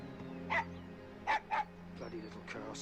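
A dog barks and yips in short bursts from an X-Files episode, with sharp yelps under continuous speech and background sound from the show.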